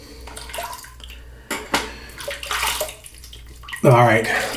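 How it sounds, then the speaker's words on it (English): A Gillette Aristocrat safety razor rinsed under a running tap, with the water splashing and rushing, metal clinking now and then, and a louder gush of water near the end. "let's rinse off"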